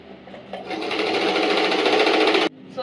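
Sewing machine stitching fabric for a handmade hair scrunchie, a steady loud mechanical whir running continuously for about two seconds before stopping abruptly, with no talking.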